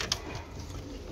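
Pigeons on a rooftop coop give a brief, soft low coo, faint and close, over a quiet background hiss.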